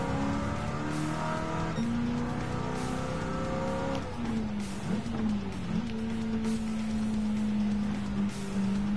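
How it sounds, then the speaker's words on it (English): A big-engined muscle car in a road racing game on a Le Mans circuit roars steadily, its pitch shifting between gears, with tires squealing in bursts over the continuous engine noise. "This is a big old car, with a big old engine"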